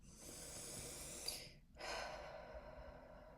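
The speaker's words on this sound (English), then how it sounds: "Take a deep breath." A slow, deep breath drawn in and let out, close and soft, with a brief pause in the middle and no talking.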